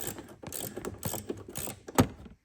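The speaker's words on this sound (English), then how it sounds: "getting your other wrench in there, loosen it up" A wrench works loose the last nut on the rear shock of a 2003-2008 BMW Z4 E85, giving quick ratcheting clicks and metallic ticks up close, ending in one sharper clank.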